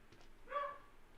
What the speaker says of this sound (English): As Oreo barks his little doggy head outside